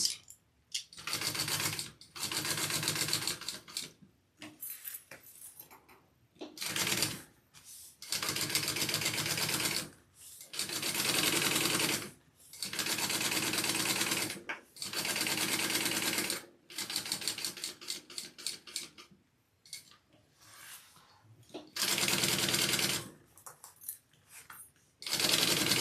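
A sewing machine runs basting stitches through stacked bag layers in repeated bursts of rapid mechanical stitching, each lasting a few seconds, separated by short pauses, close and steady.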